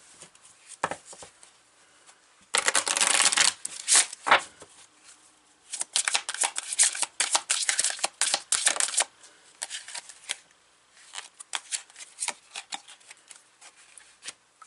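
Tarot cards are shuffled and pulled in several bursts of riffling and slapping, close and crisp, separated by brief quiet gaps.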